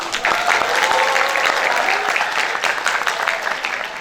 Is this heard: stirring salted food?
no